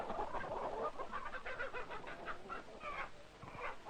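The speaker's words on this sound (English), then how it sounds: "the hen cackled because she just laid an egg" A hen cackling after laying an egg, a string of rapid clucks and squawks from a flock of chickens during feeding, moderately near and continuous, with other birds around.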